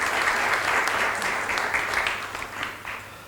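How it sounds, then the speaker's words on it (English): Audience applause at a UNESCO Asia Pacific cultural preservation awards ceremony, a dense, steady wash of many hands clapping that holds strong and then slowly thins toward the end. "he needs an applause, yes"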